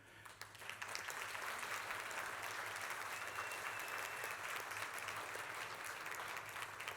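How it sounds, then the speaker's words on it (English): Conference attendees applaud warmly for a speaker named Ayanda. The clapping starts thinly, then swells into a full, even roar that holds steady and sounds somewhat distant, with no speech on top. "Please help me give a warm round of applause to Ayanda."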